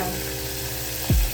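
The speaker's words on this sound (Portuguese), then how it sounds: "Enquanto isso eu estou fritando coisa pra ela comer." Food frying in a pan gives a steady close sizzle throughout, with a brief low thump near the end.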